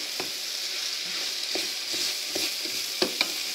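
Mushrooms and chicken breast, with almonds and onions, fry in a pan with a steady close sizzle, broken by scattered clinks and scrapes of stirring, some sharper near the end.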